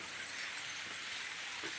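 Rain falls steadily on garden plants, a soft, even hiss of drops with no clear individual impacts, faint and continuous throughout.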